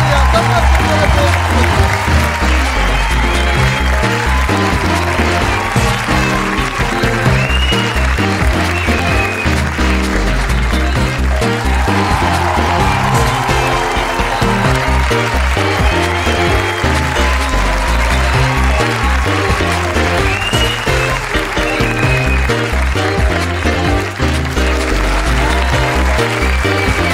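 A television studio audience on a Turkish comedy show applauds the cast in a long, loud, continuous clapping that stays dense and steady throughout, with no voices standing out.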